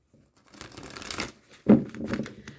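A deck of Sacred Spirit oracle cards by Anna Stark is riffled and shuffled close by, in two quick papery bursts with a short pause between them.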